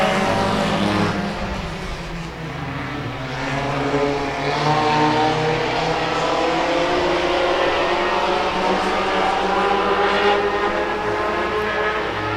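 Hornet-class race cars run a heat race on an oval track, their engines roaring loudly as a pack sweeps through the turns, with pitches rising and falling as they pass and overlap.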